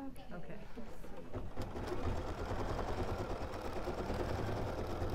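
A sewing machine's embroidery unit stitching out a design runs at a steady, close, rapid mechanical hum that continues throughout, with someone talking over it.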